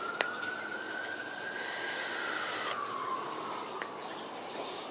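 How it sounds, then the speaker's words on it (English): An emergency vehicle siren wails outside on a Saturday night, a single steady tone gliding slowly up and down at moderate distance over a low background hum, with a few faint clicks. "here come the sirens"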